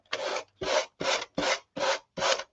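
Sandpaper rasping against a surface in six steady, evenly spaced strokes, each a broad scratchy burst with short pauses between, close up and fairly loud.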